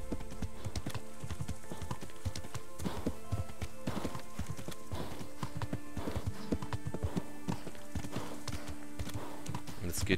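Galloping horse hooves in the video game Kingdom Come: Deliverance, a steady rapid clip-clop running throughout amid dense game ambience, with a voice talking over it.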